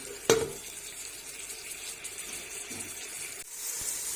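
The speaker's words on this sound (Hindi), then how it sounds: "अब अच्छे से हम इसको भून लेंगे" Turmeric and spices sizzle gently in a pan for Punjabi kadhi, a soft steady frying hiss with one sharp clink of a spoon at the start.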